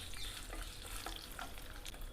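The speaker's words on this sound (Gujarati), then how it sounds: "એકવાર હલાવી લેશું." A tempering of mustard seeds, cumin, sesame and curry leaves sizzles in hot oil, a dense continuous crackle with faint scraping stirs, fairly quiet and without voices.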